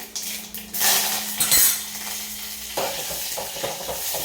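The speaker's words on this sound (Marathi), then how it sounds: "आणि आपलं छान असं तडतडलेलं आहे त्यामध्ये अगदी कढीपत्ता टाकणार आहे" Curry leaves go into hot oil already holding spluttered mustard seeds and cumin for a sambar tempering: a burst of loud hissing sizzle with clinks of a utensil against the pan, then a steady crackling fry.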